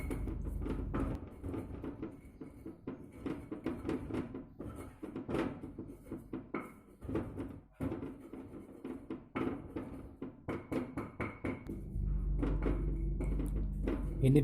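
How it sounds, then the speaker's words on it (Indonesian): Candlenuts are crushed with a stone grinder in a Batak home kitchen, making repeated irregular knocking and scraping thuds against stone, fairly quiet, with a low steady hum behind. "sekarang kita haluskan dengan gilingan"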